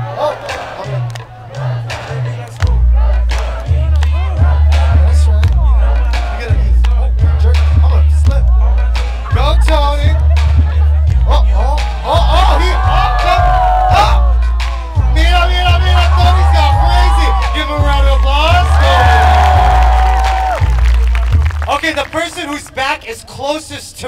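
Dance crew crowd cheering and chanting a dancer's name over a pounding bass-heavy music beat, voices rising and shouting through most of the stretch, loud and close.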